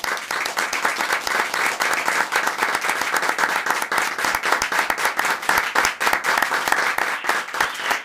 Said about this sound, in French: Ça mérite bien une bonne main d'applaudissements.